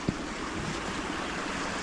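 Fast-flowing floodwater rushing down a swollen channel from a ridge on the River Wear, a steady broadband roar close to the microphone with some wind buffeting and a brief knock near the start.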